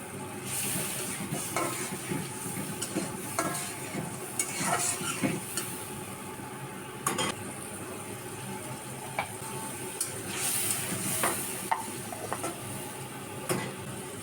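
Ginger paste and garlic paste hiss and sizzle in a pan of oil with a little water, while a spoon repeatedly scrapes and knocks against the pan as the spice pastes for a village-style chicken curry are stirred, with no voices.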